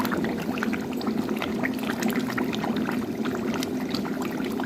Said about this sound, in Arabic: نزيدها شوية ماء